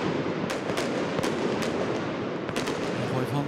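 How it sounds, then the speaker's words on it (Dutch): Fireworks set off inside FC Twente's football stadium in Enschede during a home match, a rapid series of sharp bangs and crackles over a loud, continuous crowd roar. "En net als bij de thuiswedstrijden tegen Fortuna en Groningen wordt er flink vuurwerk afgestoken"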